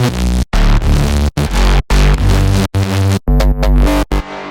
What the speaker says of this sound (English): Bass group sounds like this